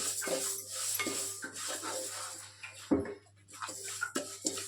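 Flax seeds being roasted in a pan, heard as a busy rattle and scrape of a metal spoon stirring against the pan, with a low steady hum underneath and no talk.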